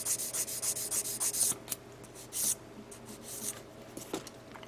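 Fine-grit sandpaper rubs a plastic part of a 1/144 HG Gundam Heavy Arms model kit up close, in quick short strokes with brief pauses between them.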